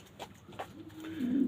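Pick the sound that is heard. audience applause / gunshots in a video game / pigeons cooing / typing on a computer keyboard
pigeons cooing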